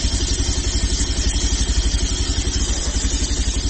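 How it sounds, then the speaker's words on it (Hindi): A Bajaj Pulsar 150 motorcycle engine is revved up to about 4000 rpm during throttle body cleaning, giving a loud, close, steady, fast-pulsing drone with no one talking. "उसी टाइम इंजन आरपीएम 4000 आरपीएम तक रेव अप करना है"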